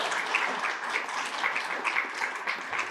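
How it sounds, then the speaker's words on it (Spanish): Audience applauding a priest during a talk on the Romería de Ujarrás, a moderate, fairly distant burst of clapping with slightly uneven rhythm and no speech. "Quiero ofrecernos un muy fuerte aplauso al Padre."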